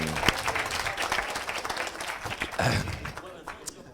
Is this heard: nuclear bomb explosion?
no